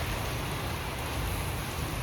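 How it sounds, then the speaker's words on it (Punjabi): Steady rain pattering on a surface, a continuous soft wash of drops at moderate volume, no talking. "ਵਧੀਆ ਮੀਂਹ ਪੈ ਰਿਹਾ"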